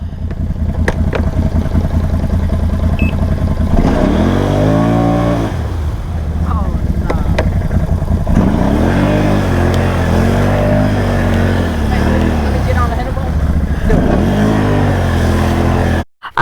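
Can-Am Outlander ATV stuck in flooded mud, its engine revving hard and steady with rising and falling pitch, loud and close for the whole stretch before cutting off abruptly at the end.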